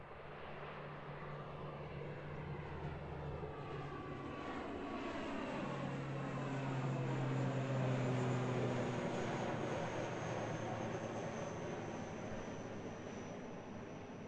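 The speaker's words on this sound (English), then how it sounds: "I believe this is our ATR off to Palmy." An ATR turboprop airliner departs Christchurch Airport for Palmerston North, a steady propeller and engine drone heard from a distance that swells gently toward the middle and then fades slightly.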